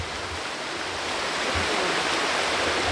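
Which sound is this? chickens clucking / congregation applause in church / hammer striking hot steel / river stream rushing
river stream rushing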